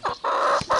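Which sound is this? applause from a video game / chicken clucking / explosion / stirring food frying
chicken clucking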